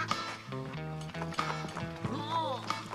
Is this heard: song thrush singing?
no